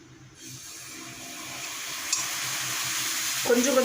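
Hot roasting mixture in a pan, for an aloe vera preparation meant to keep hair black, breaks into steady sizzling hiss, and a fresh, louder sputter flares at the end as aloe vera juice is added, with no voices.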